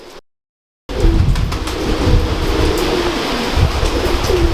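A pure-bred teddy pigeon coos close by in a steady, continuous stream of low murmuring calls, with a brief dropout of silence near the start.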